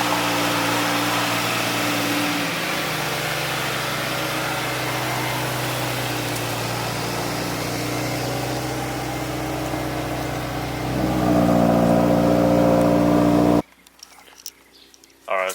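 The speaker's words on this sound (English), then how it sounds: "that's like the first time I started the car up in a week" A 2016 Subaru WRX engine runs steadily at a loud idle, then revs up briefly before cutting off abruptly, leaving near silence.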